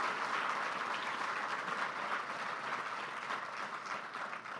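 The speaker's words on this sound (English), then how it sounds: "please help me give a round of applause once again for His Excellency Paul Kagame, President of the Republic of Rwanda" A large audience at the inauguration of the CMU-Africa campus in Kigali applauds Rwanda's President Paul Kagame, a steady wash of clapping that holds throughout and eases slightly toward the end, heard from within the hall.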